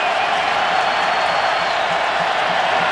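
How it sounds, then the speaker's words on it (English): A packed college football stadium crowd at Auburn roars in a dense, sustained wall of cheering with no breaks. A faint voice is partly buried beneath it. "Crowd is jumping here in Auburn."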